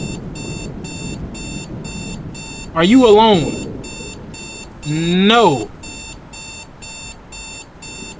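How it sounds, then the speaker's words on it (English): A video game alarm clock rings on and on in a steady, insistent beeping pattern, moderately loud, while two voices briefly talk over it. "Dude, that clock need to shut up."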